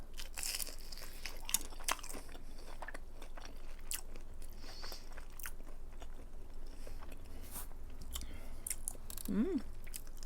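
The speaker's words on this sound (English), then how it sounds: "Alright, first bite." Shrimp being eaten up close, with repeated crunchy bites and wet chewing, crinkling and smacking sounds continuing steadily throughout.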